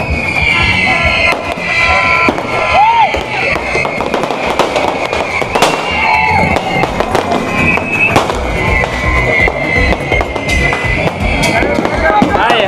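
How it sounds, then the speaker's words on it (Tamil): New Year 2025 fireworks burst over a street celebration in Kattankudy, Sri Lanka, as a dense, continuous barrage of loud cracks and booms with crowd noise and people talking nearby. "வான வேடிக்கை."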